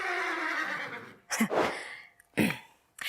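A horse neighs and whinnies loudly and close by, in several bursts separated by short pauses, with no talking.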